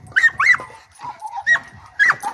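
A young female hound whimpers in a run of high, wavering whines and short yelps, close and clear, with brief pauses between cries.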